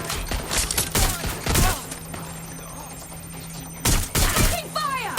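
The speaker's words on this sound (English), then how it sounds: "Shots fired! Shots fired!" Gunfire in the Watch Dogs Legion game: loud bursts of shots come in clusters near the start and again toward the end, with a quieter stretch between and faint voices mixed in.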